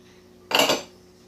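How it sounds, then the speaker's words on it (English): A single short clink and scrape of a utensil against a crockpot while gelatin is stirred into yogurt, close and sharp, rising briefly out of a quiet hum. "If you're using gelatin, go ahead and add it now."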